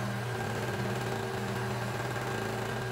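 Sewing machine stitching two pieces of bandana fabric together, a steady close mechanical whir and rapid needle hum running evenly throughout, no talking.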